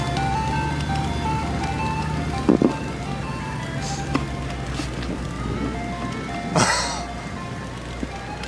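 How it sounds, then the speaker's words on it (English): Ice cream truck melody chiming steadily on a street, with a passing car engine and faint road noise underneath and a brief knock or clatter partway through. "the ice cream truck's coming for you"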